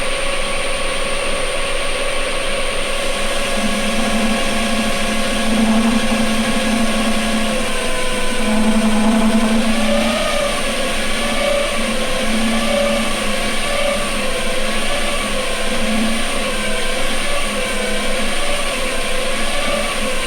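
A machine tool cutting metal, taking a one-millimetre pass as the spindle speed is varied, gives a loud continuous whining drone whose pitch wavers and shifts throughout, with no voices.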